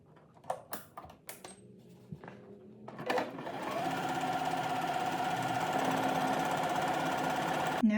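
A sewing machine stitching fabric for a wrap skirt starts with a few scattered taps and clicks, then settles into a steady, fast whirring hum of continuous stitching, close and moderately loud.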